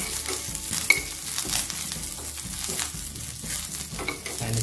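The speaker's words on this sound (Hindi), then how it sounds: "स्पून से अच्छे से मिक्स कर देना है" Curry leaves stirred with a spoon in a hot pan while making coconut chutney, giving a steady sizzle with soft repeated scraping and clinking strokes, close and without talk.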